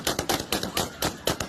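Sharp gunshots crack outside an airport in Afghanistan, roughly six or seven sharp reports in an irregular burst, loud and close with nothing else audible between them.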